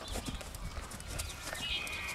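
A 17.2-hand mare being ridden, her hooves clopping in a steady rhythm at moderate distance, with faint voices in the background.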